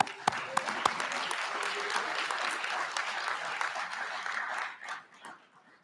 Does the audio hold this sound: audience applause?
yes